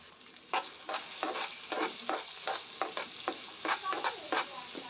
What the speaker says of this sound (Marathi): मी थोडेसे ड्रायफ्रूट तुपावरती सॅडो फ्राय करून घेतली